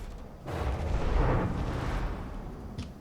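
A battleship turret blows apart in a naval combat game, with a broad, muffled explosion that swells and rumbles for about a second before fading into a low roar, ending in a faint click.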